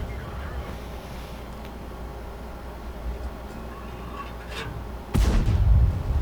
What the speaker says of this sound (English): that shot was just a little too late